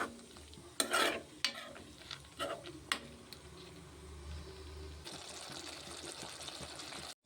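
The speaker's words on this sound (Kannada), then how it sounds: "ನಾವು ಮೊದಲೇ ಫ್ರೈ ಮಾಡಿಕೊಂಡಿರೋಂಥ ಕ್ಯಾಪ್ಸಿಕಮ್ ಮತ್ತು ಈರುಳ್ಳಿನೂ ಕೂಡ ಸೇರಿಸಿ ಅದನ್ನು ಕೂಡ 3 ನಿಮಿಷಗಳ ಕಾಲ ಫ್ರೈ ಮಾಡ್ಕೊಳ್ಳೋಣ" Capsicum and onion being fried and stirred in gravy in a pan, with a soft steady sizzle under scattered scraping and clinking stirring strokes, fairly quiet throughout.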